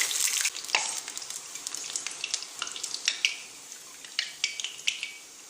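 Boondi batter frying in hot oil for sweet boondi, a steady close crackling sizzle with sharp pops and bursts scattered throughout, no voices.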